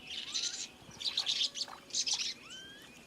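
Galápagos finches give short, high chirps and tweets in quick clusters with brief pauses between, close and clear over a quiet background.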